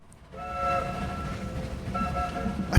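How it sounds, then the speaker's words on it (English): A train rushes past in the video game The Lion's Song, a steady rumbling roll with sustained horn-like tones that fade and return, loud and close with no talking. "That train is booking it."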